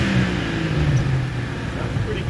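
A $200 Jeep Cherokee fitted with a junkyard engine drives along, its engine and road noise making a steady, close rumble with a slight rise in revs.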